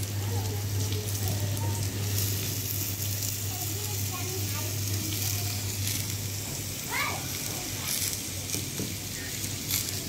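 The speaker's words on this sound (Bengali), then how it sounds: "দেখুন আমার তেলটা গরম হয়ে গেছে, করলাটা দিয়ে দিলাম তেলের ভিতরে" Bitter gourd sizzling in hot oil in a kadai, a steady frying crackle running beneath a low hum, with children's voices and talk in the background.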